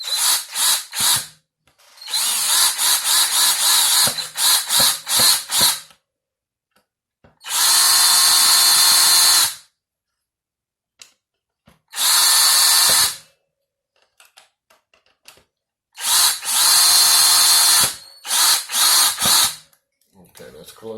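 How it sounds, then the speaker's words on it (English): A power drill drives screws into a Squier guitar body in repeated loud bursts, some short and stuttering, others long steady runs, separated by silent pauses. "I'm just going to run this down a little bit with the drill"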